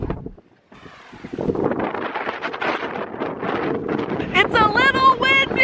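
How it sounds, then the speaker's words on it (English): Strong gusts buffet the microphone outdoors on a cold, windy day in Ireland, roaring steadily in broad bursts, with a person talking over it near the end. "It's a little windy."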